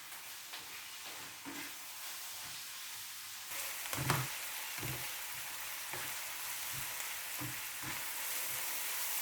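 Quiet, steady sizzle of onions and spices frying in a pan, with a few soft stirring knocks and scrapes.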